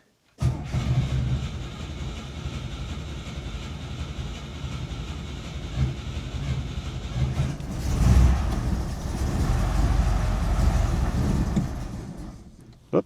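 A small gas engine in neutral is cranked with the choke partly on and a stiff throttle, giving a steady rough mechanical rumble that runs continuously, swells louder partway through, then cuts off sharply near the end.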